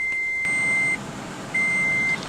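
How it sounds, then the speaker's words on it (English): A car's warning chime sounds as two long, steady electronic beeps separated by a short gap, fairly loud and close against a quiet background. "I'm tired of that beeping."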